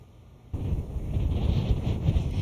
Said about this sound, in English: As you can tell, it is already pretty windy.